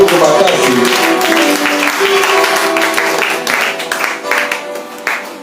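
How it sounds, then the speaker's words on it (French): A church congregation applauds and cheers loudly for the Lord, a sustained wash of clapping and voices with music underneath, gradually easing off toward the end. "Acclame très fort pour le Seigneur"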